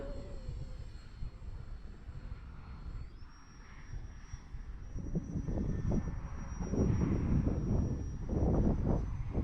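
An E-flite Valiant RC airplane's electric motor whines steadily outdoors, its pitch stepping up as it throttles and the drone swelling louder as it passes overhead, with gusty wind rumbling across the microphone.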